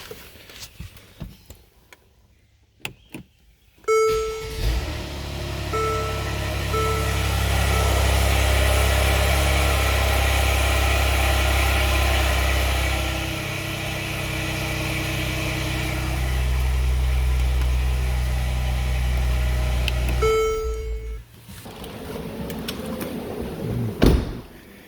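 A Mercedes car engine cranks and catches near the start, then settles into a steady, loud, close idle for about fifteen seconds before shutting off, with faint clicks and handling noises before and after.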